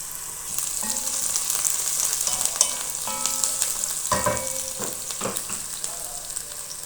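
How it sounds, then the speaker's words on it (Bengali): Onions fry in oil in a pan, a close steady sizzle broken by repeated scraping and stirring strokes, with a louder clatter of the utensil about two-thirds of the way through. "এখানে দিয়েছি পেঁয়াজ, দিয়ে দিলাম তেল"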